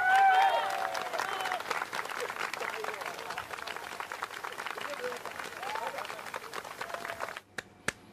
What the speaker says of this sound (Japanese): もう一度大きな拍手お願いいたします